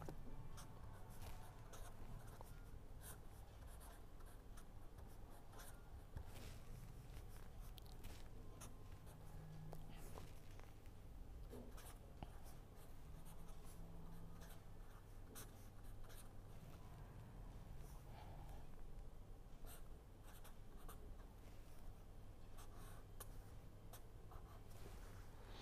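A pen scratches steadily across paper while an equation is written out by hand, faint close strokes and taps continuing throughout over a low room hum.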